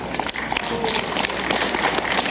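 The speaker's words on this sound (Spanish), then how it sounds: "Ya están los aplausos calurosos" Warm applause from family and guests at a wedding, a dense steady patter of many hands clapping close by for a couple of seconds, with faint voices mixed in.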